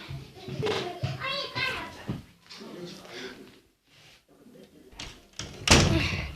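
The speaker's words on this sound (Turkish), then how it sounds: "Kapattım kapıyı." A sharp door slam in the video game Granny cuts in near the end, after stretches of excited children's voices talking.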